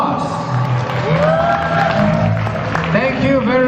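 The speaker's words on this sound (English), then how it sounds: "Applause." Applause and crowd noise at a Christmas party, steady clapping mixed with voices and a sustained tone running underneath throughout.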